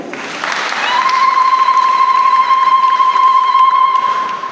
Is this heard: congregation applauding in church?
yes